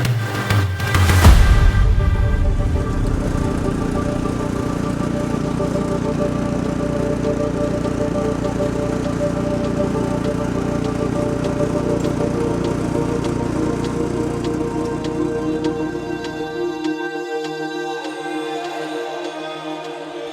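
Ariens snow blower engine started and running, a sharp burst at startup settling into a steady loud knocking drone with harmonic whine, cutting off near the end.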